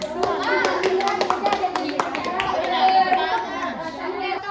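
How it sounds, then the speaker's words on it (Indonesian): Classroom of children clapping their hands together in a steady patter, with kids chattering over and around the applause. "Ya, beri tepuk tangan."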